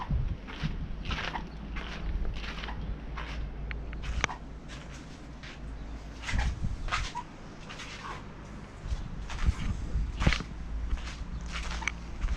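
Crocs shoes squeaking repeatedly with each step while walking around the seaside town of Barmouth, a steady run of short squeaks over a low rumble of background noise.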